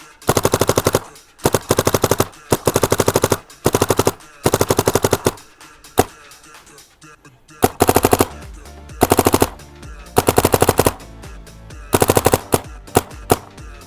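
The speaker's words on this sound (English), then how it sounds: "This one's definitely got a snappier shot to it. It sounds like crisper compared to the other one." Air-powered guns fire in rapid bursts of crisp, snappy shots, loud and close, with short pauses between strings of reports and no talking.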